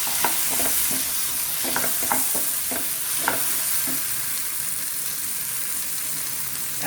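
Cut potato frying and being stirred into chicken keema masala, a steady close sizzle broken by repeated scraping stir strokes with no talk.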